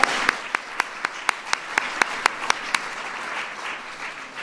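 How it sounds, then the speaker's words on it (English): Audience applause at an event introducing First Lady Michelle Obama, with one sharp hand clap cutting through at a steady beat over a softer bed of general clapping. "We have to give her another round of applause."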